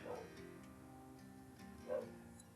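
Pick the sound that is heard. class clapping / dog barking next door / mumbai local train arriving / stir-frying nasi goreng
dog barking next door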